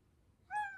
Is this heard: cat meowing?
yes